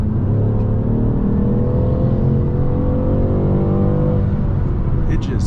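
BMW M550i with a Dinan throttle response booster accelerating hard on an interstate, a loud steady in-cabin engine and road roar with rising harmonic tones across the whole stretch.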